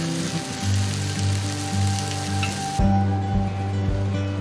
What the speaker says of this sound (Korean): 적당히 소금간이 밴 고등어를 연탄불에 바삭하게 구워낸 고갈비도 이즈음 탄생한 요리지요.